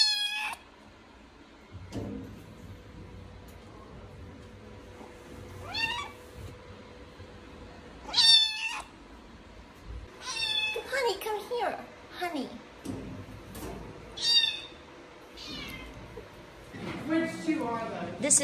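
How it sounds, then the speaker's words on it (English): Kittens in a barn give repeated high, thin meows, some close and loud, scattered through the scene amid soft background noise and a voice speaking between cries. "we got little kitty, kitty kittens"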